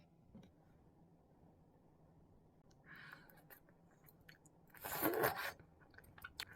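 Someone chews cheese-filled boneless fried chicken close to the ear, with quiet crunchy bites in a few short bursts amid near silence.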